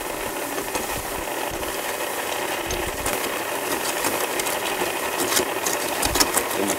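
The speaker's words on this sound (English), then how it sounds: "you can hear that the mixer is struggling a little bit more" A mixer churns ice cream being made with liquid nitrogen, giving a steady close mechanical whir and rattle that grows slightly rougher and more strained toward the end, with no speech.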